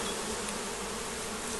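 Dense, steady buzzing of many bees close by at a bait hive, a continuous droning hum with no voices.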